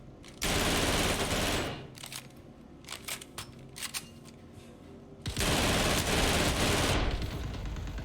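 Two long bursts of sustained automatic gunfire in the space game Star Citizen, loud and dense, with scattered sharper single shots between them.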